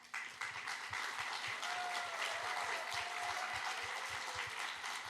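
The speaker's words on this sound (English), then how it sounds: "Let's cheer them up as they stand up." An audience applauds piano students at a recital as they stand, dense sustained clapping filling the room steadily from start to finish, with a faint tone running underneath.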